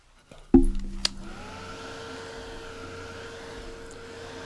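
A hair dryer starts up abruptly and keeps blowing in a steady, loud whir to dry fresh paint on a painted scarf between coats, with no voices.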